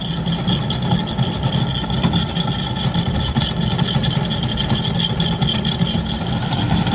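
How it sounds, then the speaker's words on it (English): An HVAC unit with a faulty blower fan, its compressor and fan running together in a loud, steady, unbroken mechanical hum and whir with a faint higher tone on top, close by and with no talk. "when I manually push it in, the compressor does start"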